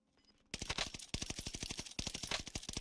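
Rapid automatic gunfire in Call of Duty Warzone: two long, loud, close bursts of evenly spaced shots, a brief gap between them, with no talking over the firing.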